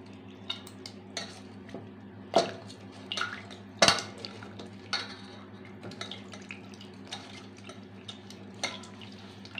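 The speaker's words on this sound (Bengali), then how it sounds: "এইভাবে চটকে নেব আমগুলো।" Boiled raw mangoes are mashed by hand in a bowl with salt, producing soft squelching and wet rubbing, with sporadic sharp clinks and taps against the bowl over a low steady background hum.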